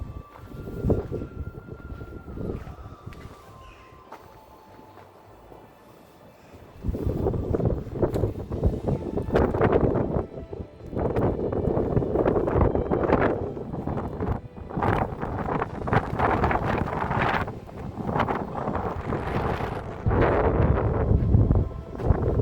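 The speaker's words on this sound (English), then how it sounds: "That's a strong wind." Strong wind roars at Rhuddlan Castle near the flag tower, quieter at first and then surging into loud, sustained gusts that buffet the microphone for the rest of the stretch, with no voices.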